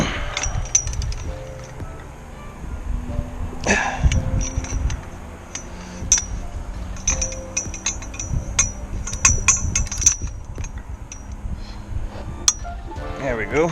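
A ratchet and socket levered with a jack handle breaks loose a stubborn crank pulley bolt, giving metallic clicks, clanks and a sharp crack among steady mechanical clatter and background hum.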